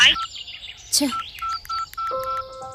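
A telephone in a Telugu film scene gives a run of short electronic dialing beeps. Several clipped tones follow each other in quick succession, with a brief voice and faint chirpy sounds near the start.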